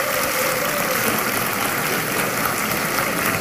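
Audience applause at a live Spanish-language comedy show, a steady dense crackle of many hands clapping at once that holds at an even level for the whole stretch, with no voices on top.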